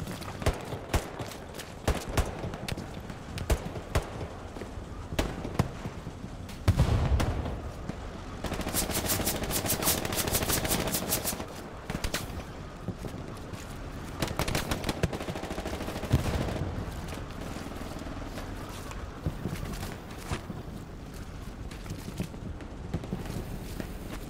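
Gunfire in the World War II shooter Hell Let Loose, with scattered rifle and machine-gun bursts, some near and sharp, others distant, plus footsteps, in several loud clusters through the clip.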